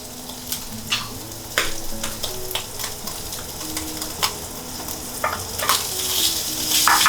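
Beef and garlic frying in oil in a wok for Sichuan mapo tofu, a steady close sizzle with scraping stir strokes and clatter of the utensil, no talking.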